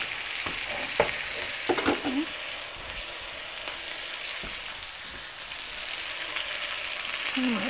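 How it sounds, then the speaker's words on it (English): A roast for Mississippi pot roast sears in a pan with a continuous loud sizzle, punctuated early by several clanks and scrapes of a utensil against the pan. "Sear that. Now I'm going to do my other roast."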